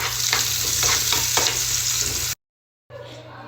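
Chopped onion and garlic frying in mustard oil give a loud, close sizzle with several stirring strokes. It cuts to a short silence, then the frying resumes more quietly.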